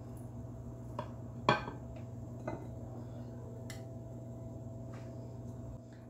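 A knife slicing through a soft lemon cake gives a few light clinks and taps against the plate, scattered over an otherwise quiet kitchen background.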